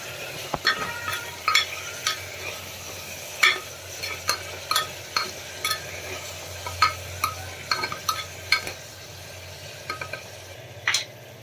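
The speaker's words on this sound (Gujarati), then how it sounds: "શાકને બરાબર મિક્સ કરી દઈશું" A spoon stirs a valor bean and brinjal vegetable curry with salt and turmeric in a pan, giving a series of distinct clinks and scrapes every second or so over a quiet background sizzle, with no voices.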